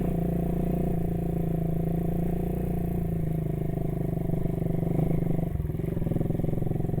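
A Janus Halcyon 250 motorcycle chugs steadily up a mountain gap trail, its low single-cylinder thump loud and continuous with a brief throttle change near the end, with no talk over it.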